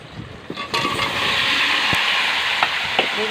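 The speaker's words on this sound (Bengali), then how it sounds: "আমি বেগুন কষাচ্ছি" Eggplant and potato pieces sauté in hot oil in a pan, a loud continuous sizzle that surges as the vegetables go in, with a few sharp clinks of stirring.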